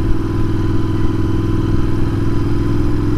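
Royal Enfield motorcycle being ridden on the road, a loud, steady low engine drone with a throbbing exhaust beat and wind, heard close and continuous without variation in pace.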